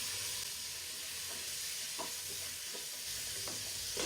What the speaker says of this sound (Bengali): এখন আমি এখানে দিয়ে দিব ক্যাপসিকাম, কেটে রাখা ক্যাপসিকাম গুলো দিয়ে দিব।